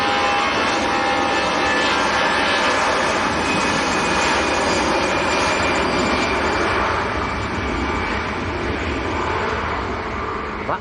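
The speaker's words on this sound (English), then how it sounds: "That was EasyJet to Gibraltar, A320." An EasyJet Airbus A320 jet roars loud and continuous at Manchester Airport, a broad steady engine rumble that fades slightly toward the end, with no voices.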